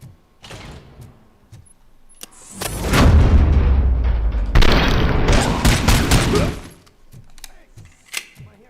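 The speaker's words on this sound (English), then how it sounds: "Am I hearing gunshots?" Gunfire erupts in a RoboCop: Rogue City game scene, a dense burst of loud shots and impacts in the middle of the clip with scattered quieter pops before and after.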